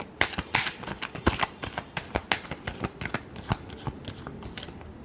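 Tarot cards are shuffled by hand in a quick riffling patter of crisp, close flicks and slaps, uneven in rhythm and fairly soft, with no talking.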